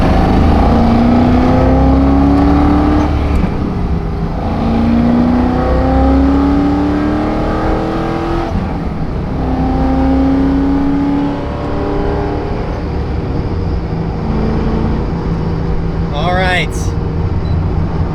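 Corvette Z06 with an LS7 engine cruising on the freeway, a loud steady drone with rising and falling engine tones as it accelerates and shifts, under occasional talk.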